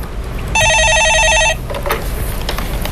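A telephone rings in one loud electronic trill, about a second long, as a caller phones in to a radio stock-market show, with studio background noise around it.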